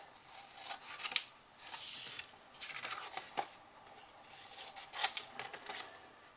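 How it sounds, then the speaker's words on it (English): Scissors snip the corners off a handmade paper gift bag, a faint run of crisp clicks and paper rustles at close range, with no voice. "that is to cut your corners off"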